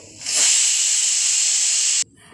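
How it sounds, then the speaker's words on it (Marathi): A pressure cooker whistle with whole masoor lentils inside releases a loud, steady rush of steam for nearly two seconds, then cuts off sharply, leaving quiet kitchen background. "या ठिकाणी कुकरची एक सिटीही झालेली आहे"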